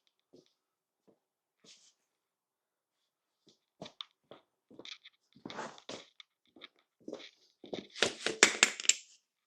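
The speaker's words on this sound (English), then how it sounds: "That was the sound of the speedo drive falling out because I forgot that it was in there." A motorcycle speedometer drive drops out of the front wheel of an abandoned 1980s superbike, a scatter of small metallic clatters and knocks, quiet at first and building to a louder rattling jumble near the end.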